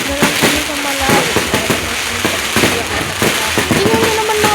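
Fireworks explode over a town plaza in a rapid series of sharp crackling bursts that sound loud and close, while people's voices carry underneath.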